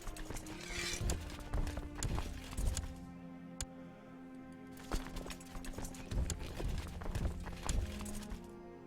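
Horse archers' hooves clip-clop in irregular clusters across a Crusader Kings 2 battlefield, with a brief quieter lull midway and faint background tones.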